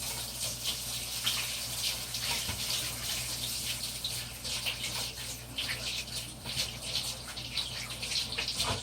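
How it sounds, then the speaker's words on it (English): Tap water runs steadily into a sink while hands are washed, a continuous close splashing hiss that holds without a break and with no talking. "let me wash my hands"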